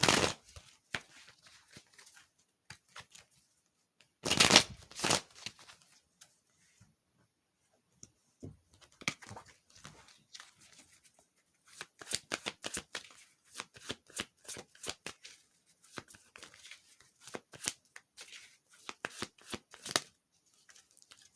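Prism Oracle cards are shuffled close up with soft, irregular riffling and slapping bursts, loud at first, then scattered quieter flicks and taps continuing throughout in a quiet room.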